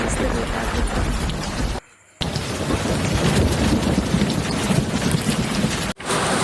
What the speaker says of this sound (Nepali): फाइनली हावाहुरी सँगसँगै पानी पनि पर्न लागेको छ